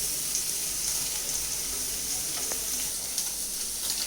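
Paneer and vegetables sizzle in a hot pan with a steady, close, dense hiss and crackle that runs evenly throughout, with no voices.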